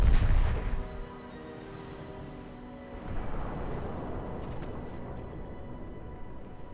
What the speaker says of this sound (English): I see a transport and immediately get a huge hit on it in the first salvo.